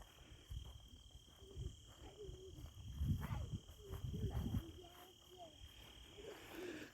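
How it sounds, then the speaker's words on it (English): Insects chirp in a steady high drone outdoors at dusk near Pawnee Lake, faint and distant, with a continuous tone beneath occasional low rumbles and a voice speaking quietly. "Maybe it is just millions of bugs."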